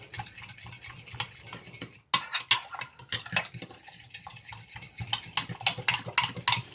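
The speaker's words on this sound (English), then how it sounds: "just go ahead and give it a good vigorous whisk" A whisk beats a yeast mixture vigorously in a bowl, a rapid irregular series of close clicks and taps against the sides, growing busier after a brief pause, with no talking.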